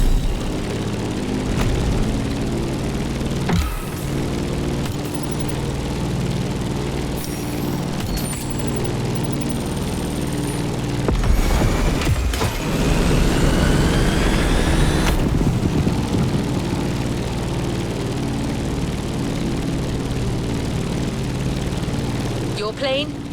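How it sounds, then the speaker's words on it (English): Propeller engine of the Civco Edge plane in the video game The Crew Motorfest, a steady loud drone that runs throughout and swells midway, with game sound effects and a voice talking over it. "Your plane, the Civco Edge, will be ideal for that ride."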